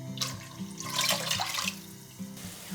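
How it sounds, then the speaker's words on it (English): Tap water pours into a saucepan, a moderate splashing gush that rises and falls for a couple of seconds before tapering off, with a faint electrical hum beneath it. "Pour the water into a saucepan and bring to a simmer."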